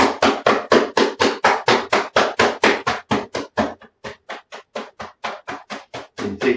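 Rhythmic hand tapping on the body during self-massage, a long run of quick, evenly spaced thumps close by, with a brief pause midway before the beating resumes slightly softer.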